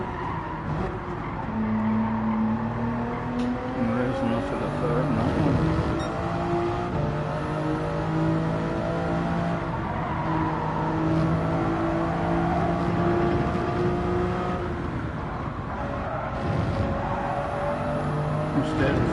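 A race car in the Gran Turismo 7 game revs hard and runs through gears with tires squealing and skidding, steady and loud throughout, under faint talk.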